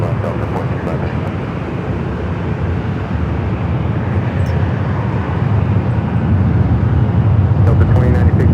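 A Delta jet rolls for takeoff on runway 24 left at Los Angeles International Airport, a broad, steady engine roar that builds gradually, with a radio voice speaking over it.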